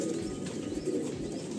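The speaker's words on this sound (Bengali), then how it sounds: "এটা মাদি পায়রা।" A female Madrasi pigeon coos softly and continuously in a loft, a low steady murmur with no talk over it.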